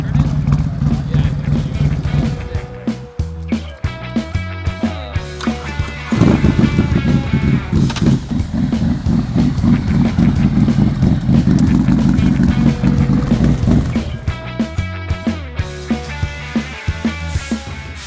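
A 2024 Harley-Davidson Road Glide engine revs repeatedly, its deep lumpy idle rising into loud throttle blips and a sustained high rev before dropping back to a choppy idle, close and dominant.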